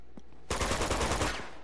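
Automatic gunfire from Uncharted 2: Among Thieves erupts suddenly in a loud, rapid burst of about a second, standing alone with no talk.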